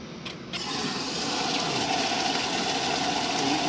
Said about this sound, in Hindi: पानी आ रहा है।